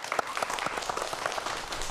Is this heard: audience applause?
yes